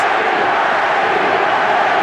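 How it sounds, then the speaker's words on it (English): A boxing arena crowd roars during the Erik Morales vs. Manny Pacquiao fight, a dense, loud, continuous wash of massed voices that holds steady throughout. "Crowd screaming, Manny, Manny."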